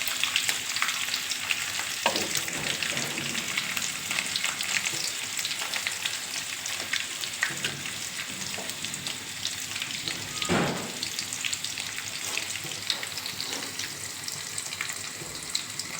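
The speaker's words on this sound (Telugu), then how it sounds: "ఇవన్నీ కూడా చక్కగా ఆయిల్లో వేగనిచ్చి" Green chillies, onion and ginger paste frying in oil for egg fried rice, a loud continuous close sizzle with intermittent stirring scrapes and crackles.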